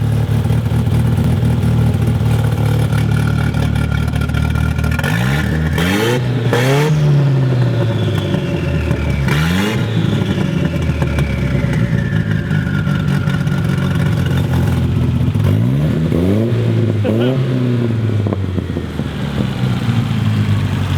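A loud Datsun 240Z engine with a muscle-car side pipe idles roughly, then revs hard several times in sharp bursts that rise and fall back, with a raw, open-exhaust roar from the opened cutout throughout.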